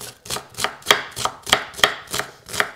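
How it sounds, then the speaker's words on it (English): A knife chops onions steadily on a cutting board, about nine crisp even strokes in a brisk rhythm, close up and alone. "Chef chopping."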